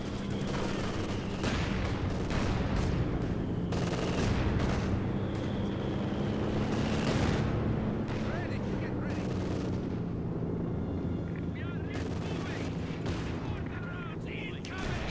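Bursts of machine gun fire rattle through a World War II real-time strategy battle in a port city, mixed with scattered gunshots and distant explosions, with players talking over the continuous combat.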